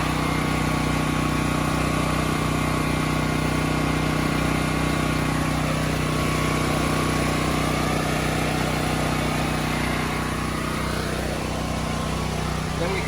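Portable generator running steadily outdoors beside a breaker box, a constant loud engine drone with a steady hum that continues unbroken throughout, with no talk over it.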